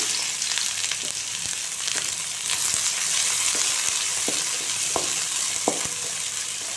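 Chopped onions sizzle and fry in hot oil with a steady crackling hiss, broken by occasional clicks of a utensil stirring the pan.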